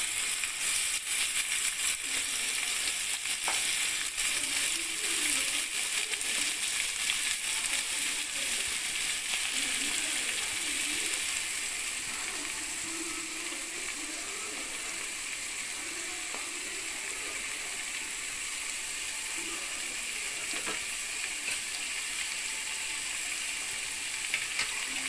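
Steady, dense sizzling of finely chopped onions frying in a pan with salt for egg curry, a continuous crackle with occasional faint clinks, no voices.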